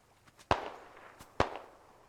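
Two sharp grenade blasts in a multiplayer shooter game match, each a sudden crack with a short decaying tail, spaced about a second apart, with faint game noise between them.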